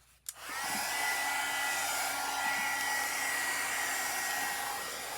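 A hair dryer blows steadily on the pages of an old book being turned into an autumn craft, switching on with a click and then holding a loud, continuous whir, alone without talk.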